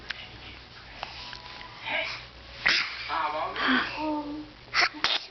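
A baby sneezes a few times, short sharp bursts heard close up, mixed with soft sniffles and an adult's murmured talk in a quiet room.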